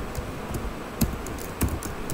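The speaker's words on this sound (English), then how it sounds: "Then after that, you type the code" Code is typed on a computer keyboard in a quiet room, with soft scattered key taps and two louder clicks, close and steady.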